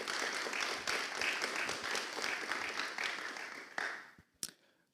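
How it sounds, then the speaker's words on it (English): Conference audience applause in an auditorium at PyCon Greece, a full round of many hands clapping that thins and fades toward the end, leaving a few last isolated claps. "let's give them a round of applause first."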